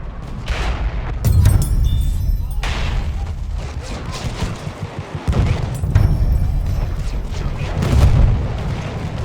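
Enemy machine gun fire in the Battlefield 1 Argonne Forest battle, heavy booming bursts and blasts rolling through a dense, noisy combat mix, with voices calling out over the gunfire.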